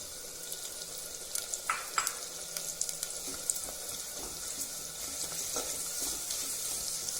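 Onion and tomato fry in a pot for biryani, giving a steady soft sizzle close by, with a few light stirring clinks and scrapes scattered through and no voices.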